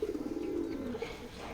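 A homer pigeon in a coop gives one sustained, throaty coo, steady and close, filling the short moment with a low rolling hum.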